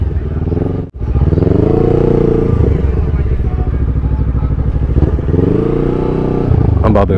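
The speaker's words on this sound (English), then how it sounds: "I'm about to go down the aisles because I'm on a motorcycle," A motorcycle rides down the aisles of a cars-and-coffee show past Porsches and McLarens, its engine loud and close, rumbling steadily with a brief cut near the start and a rev toward the end.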